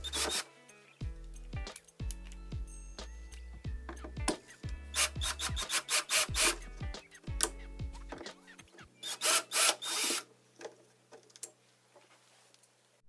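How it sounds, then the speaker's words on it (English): Old thermostat mounting plate being unscrewed from a wall by hand, giving close, intermittent scraping and ratcheting squeaks of a screwdriver turning screws, with short pauses between bursts. "Unscrew the old thermostat mounting plate to remove it."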